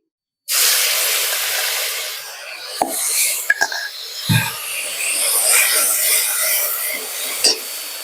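Asafoetida, ginger and dried red chillies hit hot oil and burst into a loud, steady sizzling hiss that starts abruptly and holds throughout, with a few small clinks and pops up close.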